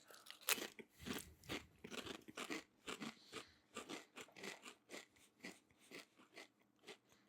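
Japanese Pringles chips crunched and chewed close to the mic, a series of sharp crisp bites followed by rhythmic chewing crunches.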